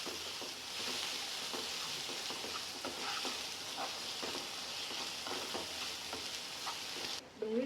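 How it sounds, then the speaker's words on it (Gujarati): Tomatoes and curry leaves cook gently in a pan on low heat, giving a steady, soft sizzle with faint stirring clicks throughout, then a brief shift near the end. "ટામેટાં નાખી દઈશું। મીઠો લીમડો, આ બધાને ધીમે તાપે 5 મિનિટ ચડવા દઈશું।"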